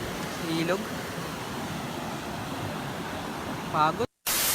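Steady rushing water of a river at Sitio Labahan in Angono, Rizal, a continuous broadband wash running through the whole clip, with faint voices rising briefly over it near the start and end.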